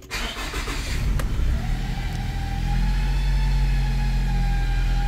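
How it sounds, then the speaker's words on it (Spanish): A 2002–2006 Nissan pickup truck engine is cranked and catches, then settles into a steady, close idle hum that continues to the end with no talk. "vamos a encender la camioneta y veamos cómo reacciona"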